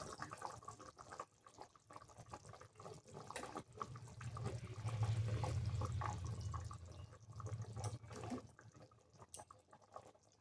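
Curry gravy for a potato and pointed gourd niramish bubbles at a boil in a pot, a soft, watery burbling with irregular pops that swells in the middle before easing off, with no voices.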